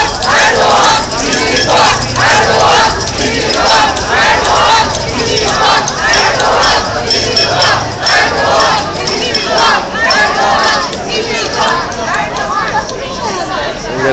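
A protest rally of about 100 people gathers near the downtown Berkeley BART station, with a loud, dense crowd roar of chanting, shouting and chatter rising steadily throughout.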